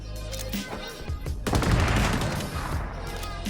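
Gunfire in the XDefiant shooter game: a quick burst of shots, then a dense, loud fusillade of rapid automatic fire with booming impacts filling the rest, up close and continuous.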